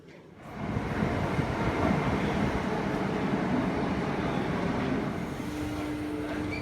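Steady low rumble of a moving train in Istanbul with broadband rolling noise and some wind buffeting, continuous and fairly loud, no talking.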